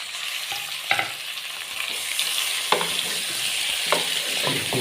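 Mixed vegetables and tomatoes fry in a pan, making a steady close sizzle broken by a few sharp clinks and stirring scrapes, with no voices.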